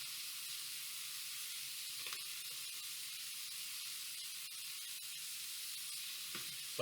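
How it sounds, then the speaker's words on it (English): Royal red shrimp and peppers sizzle steadily in a hot pan, a bright continuous frying hiss with a couple of faint clicks from the pan, close and unaccompanied by talk. "We're going to get these sauteing."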